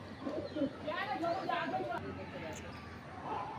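Hazari pigeons, a slim pencil-marked hen among them, give soft bubbling coos close by, mixed with a low murmur of background chatter.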